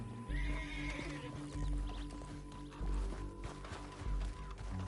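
A horse in Red Dead Redemption 2 whinnies while hooves clop along in a repeating rhythm over a low, steady game soundscape.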